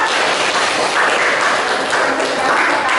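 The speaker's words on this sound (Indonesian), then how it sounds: "Tepuk tangan untuk kita semua." Classroom of students applauding together, a steady dense wash of clapping that fills the whole stretch at close range, with no one speaking over it.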